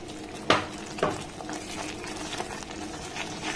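Roasted rice powder is stirred into a thick coconut mixture in a pan over a low flame, with two sharp scraping strokes early on and softer scrapes and a faint sizzle after.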